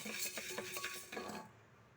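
Green gram roasting in a pan for thuvaiyal, a brief bout of stirring with dry scraping and clinking of utensil against metal, close and fairly faint, fading out at the end.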